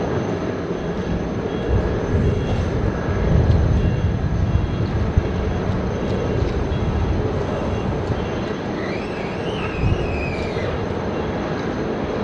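Malaysia Airlines flight 122 heavy airliner takes off at Sydney Airport, its engines a steady distant rumble and roar that builds slightly, with a faint rising whine toward the end.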